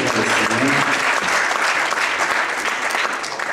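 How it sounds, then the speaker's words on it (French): A church congregation applauding, a dense, loud wash of clapping from many hands that holds steady throughout and eases slightly at the end, with faint voices mixed in. "Acclamons le Seigneur."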